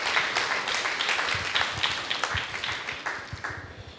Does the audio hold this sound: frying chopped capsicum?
no